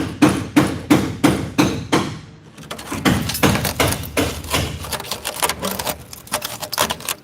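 Hammer blows on a car frame rail during a replacement job, struck in a rapid, steady series of loud metallic impacts, then a short pause followed by more irregular, clanging hits.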